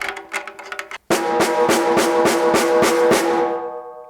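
A snare drum with over-tightened snares is struck once. After a short silence comes a steady run of evenly spaced, ringing hits, about three per second, which gradually decays at the close.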